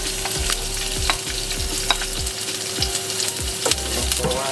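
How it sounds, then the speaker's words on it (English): Onions and pepper sizzle steadily in a little oil in a pot, a continuous close frying hiss broken by regular scraping stirs, with no speech. "I'm going to put some oil in. Not much, just to get so I can saute the onions. Then we'll put the onions and the pepper."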